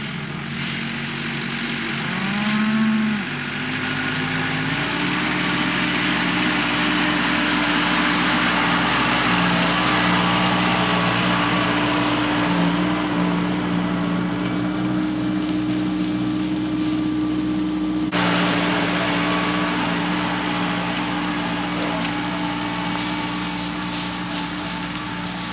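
A tractor engine runs on a ranch with a continuous, fairly loud droning hum and slight shifts in pitch, with no talk.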